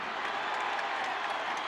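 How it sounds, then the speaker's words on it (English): Stadium crowd noise at a Gaelic football Ulster semi-final between Down and Monaghan, a steady broad roar of cheering spectators, loud and continuous with no break. "Here comes that cheer."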